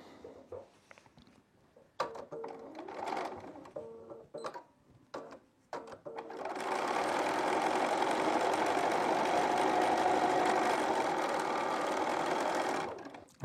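A sewing machine stitching fabric for a quilted postcard: a few short stop-start bursts and handling clicks, then a long, loud, steady whirring run of stitching that stops abruptly.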